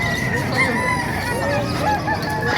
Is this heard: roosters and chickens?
yes